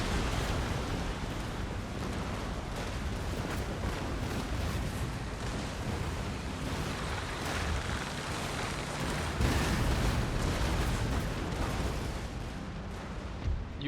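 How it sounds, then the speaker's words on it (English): Ships' cannons fire in a naval battle within Empire: Total War, a dense, continuous rumble of overlapping booms with a few louder surges, heard at a distance with no voices. "there's others trying to get through this mess while firing all guns simultaneously"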